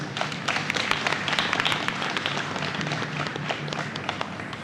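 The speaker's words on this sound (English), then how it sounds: "Give them a round of applause." Crowd applauding meditation teachers at an International Day of Yoga celebration outdoors at the Strand in London, a steady dense clapping that holds at a moderate level for several seconds, with faint voices mixed underneath.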